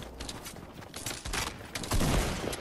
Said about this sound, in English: I shot my shotgun instead of building a wall.